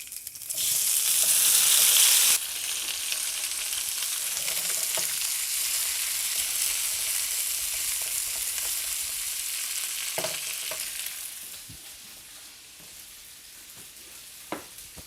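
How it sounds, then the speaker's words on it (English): Olive and sesame oil sizzle and fry in a hot skillet, a loud hiss at first that settles into steady crackling frying, with occasional stirring clinks near the end. "We got a hot skillet right now. We're gonna add a little bit of olive oil, as well as a little bit of sesame oil."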